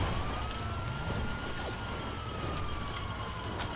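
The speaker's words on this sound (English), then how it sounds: "Those police cars are gonna follow me." Police car sirens in a casino heist video game chase wail in a faint, steady rising and falling sweep across the whole stretch, layered over a busy background of game noise with no voices.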